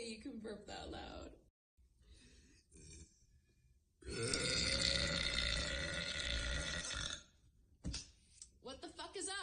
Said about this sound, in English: No way you can burp that loud.